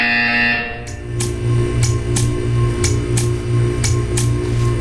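Buzzer in a Portal 2 test chamber at Aperture Science, a series of short evenly spaced electronic pulses over a steady low hum, loud and close, with no voices.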